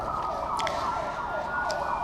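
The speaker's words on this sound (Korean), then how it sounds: "제가 사이렌 소리를 들으니까" A siren wails outside in a steady rising and falling sweep that repeats about twice, clear and fairly loud, with faint higher chirps over it.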